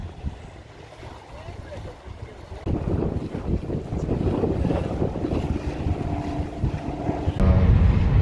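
A sailboat moving under wind on open water, with heavy wind buffeting and water rushing around the hull, growing louder partway through, as a voice speaks briefly.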